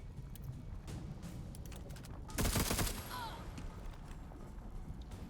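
Gunfire in the video game Necromunda: Underhive Wars comes as one loud, dense burst of shots about a second long, set against low game ambience.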